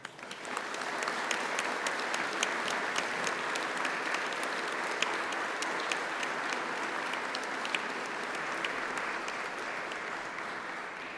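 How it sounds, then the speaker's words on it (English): Steady applause from a graduation ceremony audience, dense and sustained for the whole stretch, with occasional sharper claps standing out from the crowd. "shall we have a round of applause for all those special people who are here celebrating with you today?"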